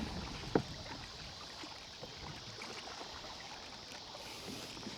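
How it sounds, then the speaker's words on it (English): Turbulent Missouri River water swirling around a kayak near St. Joseph, a soft, steady rushing and gurgling wash with one brief knock of the boat or paddle near the start. "Another spot where the river's just kind of going crazy."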